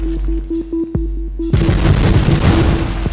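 A loud burst of explosions in the video game Little Big Robots erupts mid-clip and rumbles on, following a quieter stretch of tonal game sounds and a single sharp pop.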